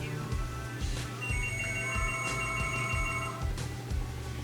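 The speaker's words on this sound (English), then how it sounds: "there goes my phone." A phone rings with repeated electronic tones under steady background music, moderately faint and close by.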